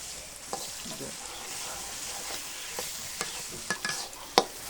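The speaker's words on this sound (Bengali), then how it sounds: "এই তো আমার রসুন গুলো এখন লাল হয়ে গেছে, এখন শাকগুলা ঢেলে দিব।" Garlic frying in oil in a pan before leafy greens go in, a quiet continuous sizzle with occasional faint scrapes and taps of a utensil.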